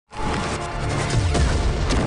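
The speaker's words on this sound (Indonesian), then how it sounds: "pedang senior Hanyu seketika langsung meledak" A sudden, sustained roaring blast as a sword explodes in an animated fantasy series, loud and dense from start to finish with a low rumbling sweep in the middle and no voices.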